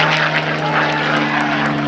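A propeller-driven Corsair racing aircraft roars steadily overhead at the Reno air races, a loud continuous droning engine.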